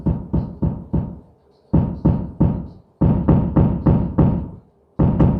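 Gritty synthesized drum hits processed through a grunger effect on an MPC 500, punchy knocking strikes in short rhythmic bursts and groups, loud and alone with brief gaps between phrases.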